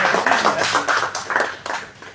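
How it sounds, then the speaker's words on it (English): A small group claps for a few seconds during a personality development and life skills training session, irregular close hand claps that fade toward the end. "Guys, clap for them"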